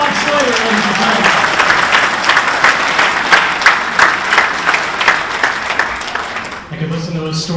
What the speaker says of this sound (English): How about a big round of applause for the legendary Bob Slater, ladies and gentlemen?